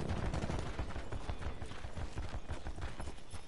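Rapid gunfire in a Call of Duty: Black Ops 4 gun game match, a dense run of repeated shots with heavy recoil-driven rhythm, loud and continuous with no talking.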